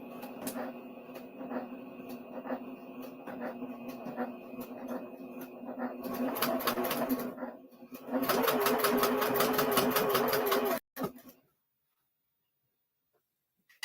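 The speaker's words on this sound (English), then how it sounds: "we're just going to sew down," A sewing machine stitches fabric quilt blades shut in a steady, close run that speeds up to a fast, loud whir near the end before stopping abruptly into silence.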